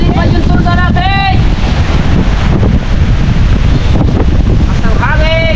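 Loud, steady wind strong enough to blow a roof off a hut roars and buffets close to the microphone throughout, with brief voices rising above it now and then.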